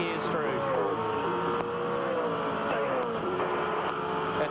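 Race car at the Bathurst circuit pulling full-throttle upshifts with a shift cut, a loud near engine note climbing in pitch with brief dips at each gear change, while someone talks over it.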